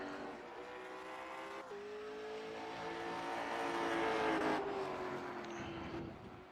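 A late model race car engine drones steadily on a warm-up lap at Myrtle Beach Speedway in iRacing, a sustained tonal whine shifting gear around midway and swelling slightly louder before easing off.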